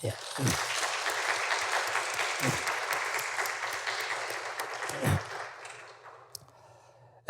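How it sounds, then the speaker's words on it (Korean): Applause from a church congregation after a musical performance, a warm wash of clapping that holds for several seconds and then fades out, with a few low thumps near the start. "우리 감사의 박수 한번 드리겠습니다."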